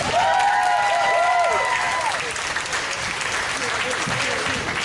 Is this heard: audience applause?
yes